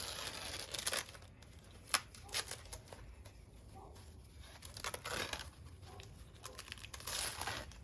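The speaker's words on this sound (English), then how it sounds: "Just rip around their tape." Packing tape is ripped away from the packaging of a truck tailgate emblem for a Ford Maverick, a soft continuous crinkling and tearing close by with one sharper snap partway through.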